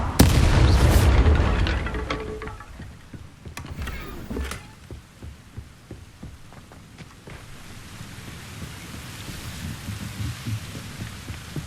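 A Confringo fire spell cast in Hogwarts Legacy lets out a loud, booming fiery burst at the start, which fades into rumbling impacts and a low background hum.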